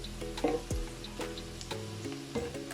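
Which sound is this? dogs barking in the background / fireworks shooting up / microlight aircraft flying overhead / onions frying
onions frying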